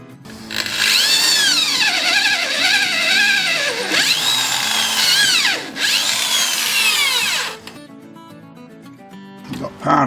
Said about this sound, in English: You can see a hole through, the drill's poked through.